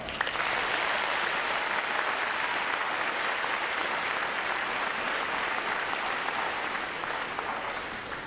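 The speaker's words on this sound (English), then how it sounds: "Let's give the recruit division commanders and staff a round of applause." Sustained applause from a large crowd at a U.S. Navy recruit training graduation ceremony, honoring recruit division commanders and staff, a dense steady wash of clapping that holds evenly throughout.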